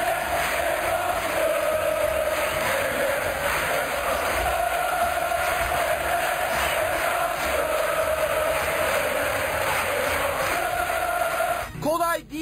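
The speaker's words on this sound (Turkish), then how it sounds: "sarı kırmızılı taraftarlar yaptıkları tezahüratlarla onu bağrına bastı" Galatasaray supporters chant in the stadium stands during a 2009–2010 Galatasaray–Antalyaspor match, honouring Emre Aşık. A massed, loud, sustained crowd chant fills the whole stretch with a steady droning vocal tone, breaking briefly near the end.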